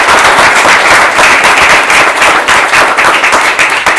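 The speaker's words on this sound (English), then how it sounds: "If you can join me in a round of applause." Audience at a tech ecosystems panel breaks into sustained, loud applause, a dense wash of clapping filling the whole span evenly from start to finish with no voices standing out.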